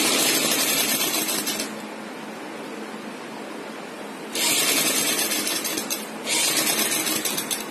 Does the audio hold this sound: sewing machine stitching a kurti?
yes